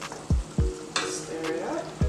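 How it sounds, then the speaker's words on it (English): Spoon scrapes and taps against a pot of simmering bean stew seasoned with black pepper and salt, a few distinct thuds over a steady soft sizzle, close up with no talk. "Stir it up."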